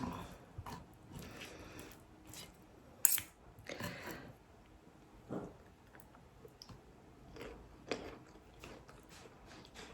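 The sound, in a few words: cutting burnt bits off the edge of a pizza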